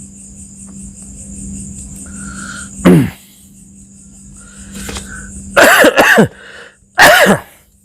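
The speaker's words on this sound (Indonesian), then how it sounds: "maaf ya, batuk." One cough, then a quick pair of harsh coughs and another single cough, close and loud, over a faint steady insect-like hum.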